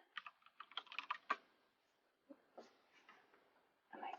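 Keys tapped on a computer keyboard in quick irregular bursts, loudest early on, then a pause, a few scattered taps and a short final burst.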